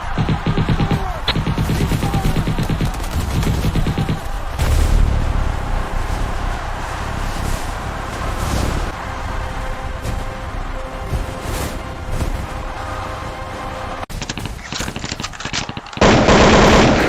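Relentless machine-gun fire as British troops shoot into the crowd at Jallianwala Bagh in 1919: loud, dense rapid bursts rattling on continuously, with a brief shift in tone near the end and no talk.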